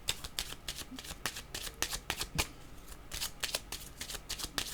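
Tarot cards being shuffled by hand, a rapid series of crisp close riffles and flicks in uneven bursts, with faint talk in the background.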